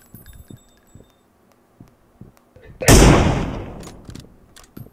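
A single loud gunshot in PUBG Mobile rings out sharply after quiet stretches of faint clicks and footsteps, its blast trailing off over a couple of seconds.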